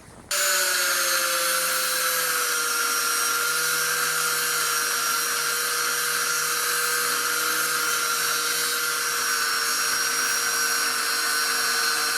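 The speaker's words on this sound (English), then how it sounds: "So let's cut a bit of angle iron." A high-pitched power tool cutting angle iron whines continuously after a sudden start, a steady loud grinding drone that holds without a break.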